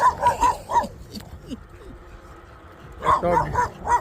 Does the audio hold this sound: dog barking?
yes